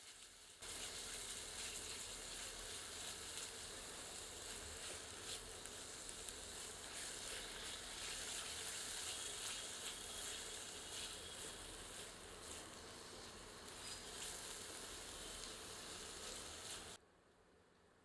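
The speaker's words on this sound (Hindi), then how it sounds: "मिलाकर 2 मिनट मध्यम आंच पर भून लेते हैं" Onions with garlic-ginger paste sizzle steadily in a pan on medium heat, a continuous hiss with faint scraping, no voices.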